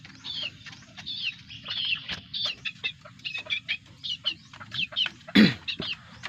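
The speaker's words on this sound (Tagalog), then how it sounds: "So ngayon ito lang muna yung mga manok natin mga boss." Backyard chickens cluck and chirp in repeated short bursts, close and clear, with one sharper loud squawk or wing flap near the end.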